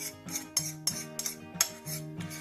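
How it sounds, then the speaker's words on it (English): Melted chocolate being mixed into fresh cream for a chocolate cake topping, with a utensil clinking against a bowl in a steady rhythm of repeated sharp taps, close and fairly quiet, with no talking. "I just want to give this a good mix."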